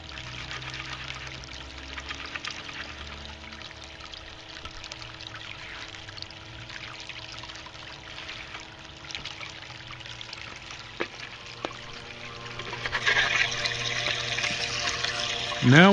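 Water running steadily over a fine gold sluice mat at reduced flow, a continuous trickling wash that grows louder and splashier near the end.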